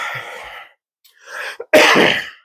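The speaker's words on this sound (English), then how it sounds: "I still got this cough." A few harsh coughs close up, a short burst followed by a longer, louder hacking cough, with brief quiet gaps between them.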